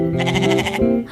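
A lamb bleats in a Tamil nursery rhyme, a sustained wavering cry held for about a second with a fresh bleat starting at the end, loud and close with no talking.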